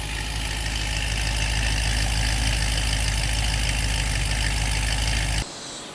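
A Chevrolet Silverado with a full bolt-on setup, including air intake, 245 pulley and headers, runs steadily on a dyno, its deep, loud engine drone holding constant before cutting away abruptly near the end.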